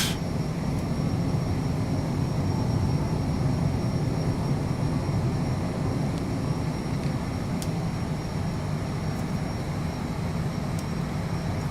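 A Cessna Citation CJ4 business jet in a flight simulator roars steadily through its takeoff climb, a continuous broad engine and rushing-air drone at constant loudness with no talking.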